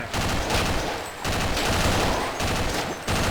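Rapid bursts of gunfire in Half-Life Blue Shift, loud and close, with sustained rattling volleys broken by short pauses.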